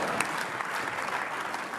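Applause fills a parliament chamber, a dense, steady wash of many hands clapping at once that holds at an even level for the whole stretch, with no voices over it.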